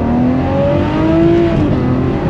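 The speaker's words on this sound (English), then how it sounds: "It sounds this way because that's what the V12 sounds like" Ferrari 599 GTO V12 engine pulling hard at steady loud volume, a sustained rising engine note with a slight shift partway through as it climbs, heard alone without talk.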